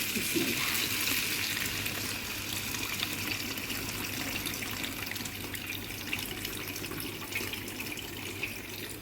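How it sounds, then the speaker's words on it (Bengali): Water hisses and bubbles steadily as it is poured onto frying chicken in a hot pan, a continuous close sizzling wash lasting several seconds. "এখন একটু পানি দিয়ে দিই"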